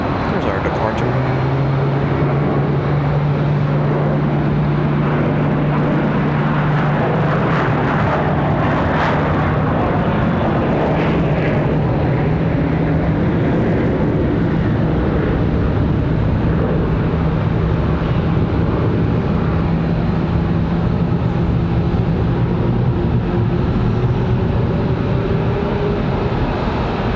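An airplane departing Charlotte Douglas International Airport, a sustained engine roar with a steady droning tone throughout, heard at moderate distance beneath someone talking.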